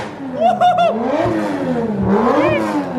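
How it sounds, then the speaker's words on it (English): A Ford Focus ST fitted with a 3-inch Malian downpipe revs up and down twice nearby, its engine note rising and falling loudly while someone speaks alongside. "give it a little rev for the camera quick"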